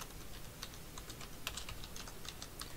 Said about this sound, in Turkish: İlk olarak klavyede bulunan Windows simgesine basıyoruz ve hemen ardından denetim masası yazıyoruz.